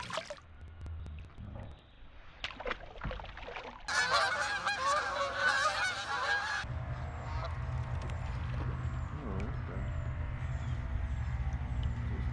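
Geese honk repeatedly at close range in a noisy burst at a boat ramp, then quieter outdoor ambience with water and low rumble follows.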